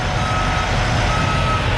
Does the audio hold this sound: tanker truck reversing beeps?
yes